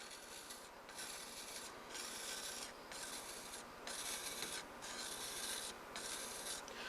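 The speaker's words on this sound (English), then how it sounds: "Grind the bevel." Woodturning tool bevel ground on a Tormek TNT-300 sharpening machine: a continuous close rasping grind under a steady motor hum, swelling and easing in rhythmic passes about once per second, with no talk.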